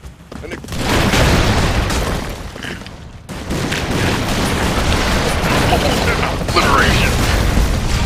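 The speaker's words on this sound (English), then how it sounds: "Oh no, there's an explosion!" A loud game explosion booms out, followed by sustained rumbling and crackling bursts that continue steadily, with voices talking over the din.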